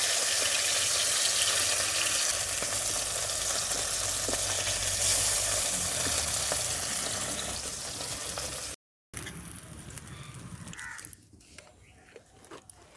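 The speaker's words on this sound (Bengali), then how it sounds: "হালকা করে ভেজে নেব।" Gurjali fish fry lightly in hot oil in a village kitchen, giving a steady, fairly loud sizzle that runs for several seconds, breaks off briefly, then returns quieter and fades, with no one speaking.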